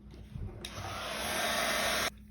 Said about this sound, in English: So I'm gonna use my heat gun.